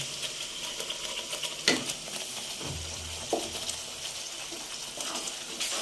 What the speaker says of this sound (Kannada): ಫ್ರೈ ಮಾಡೋಣ. ಸ್ವಲ್ಪ ಫ್ರೈ ಆದಮೇಲೆ ರುಬ್ಬಿರೋಂಥ ಪಾಲಕ್ ಸೊಪ್ಪಿಂದು ಪೇಸ್ಟ್ ಹಾಕೋಣ.